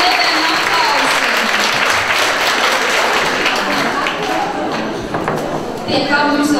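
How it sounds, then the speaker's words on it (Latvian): Enthusiastic audience applause at a university academy closing event, loud and continuous broadband clapping that persists throughout the whole stretch with a brief slight dip before swelling again, with voices heard among it. "Aplausi! Aplausi! Pilnām lietēm aplausi!"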